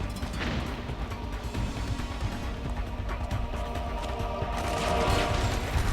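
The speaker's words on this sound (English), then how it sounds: "He totally lobbed a grenade in." Gunfire and blasts in the war-zone video game Metal Gear Solid 4, amid mortar fire, with rattling shots and crashing impacts throughout and a louder burst near the end.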